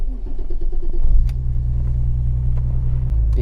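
A BMW E34 M5 running a standalone ECU cranks and catches, settling into a deep, loud, steady idle rumble close by, with no talking.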